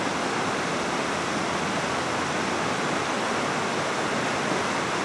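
A waterfall in a snowy Japanese mountain area where snow monkeys live roars as a dense, unbroken rush of white noise, loud and steady throughout, with no voices.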